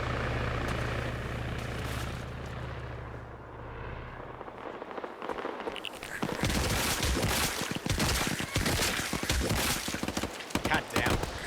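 A helicopter's rotor thrums steadily in a game scene, then rapid gunfire and crackling explosions take over, loud and dense.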